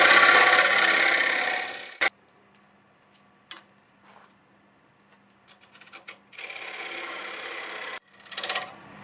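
A gouge cutting across an English walnut bowl blank spinning on a wood lathe, loud raspy scraping in bursts separated by quieter pauses of the motor hum, with brief tool contacts in between.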